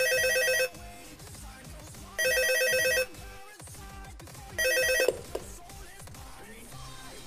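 A telephone rings inside the game Five Nights at Freddy's 3, loud electronic ring bursts repeating three times with short gaps, over low background noise and faint game sounds.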